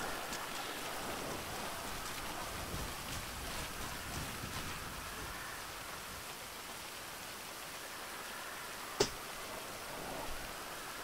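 Steady rain in GTA V on a golf course, a soft even hiss throughout with one sharp click near the end, no talk.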